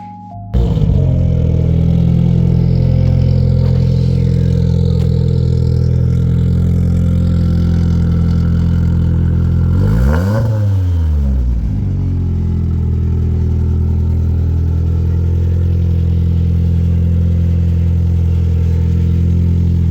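A Nissan 240SX with a tuned SR20DET engine runs on a dyno, holding a loud, steady drone that sweeps up through a rev and falls back around the midpoint before settling to a sustained roar.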